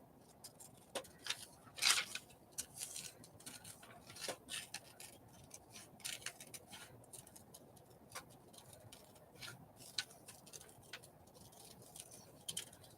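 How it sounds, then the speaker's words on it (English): Scissors snipping through paper for a collage, a scattered series of faint, close clicks and crisp cuts with quiet gaps between them, no talking. "This is such a crappy pair of scissors."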